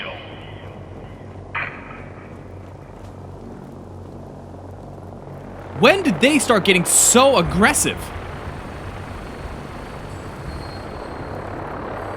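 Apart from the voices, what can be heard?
Brotherhood of Steel helicopters flying in video game Fallout 4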